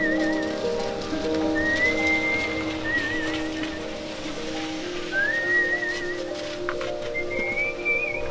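Steady rain patters on surfaces in Mawsynram village, Meghalaya, while people nearby whistle short, rising and wavering tunes on and off throughout.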